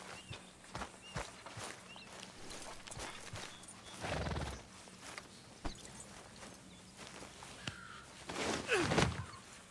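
Horse hooves clip-clop in Red Dead Redemption 2 in an uneven walking rhythm, with occasional louder shuffles and a brief horse snort, fairly quiet overall.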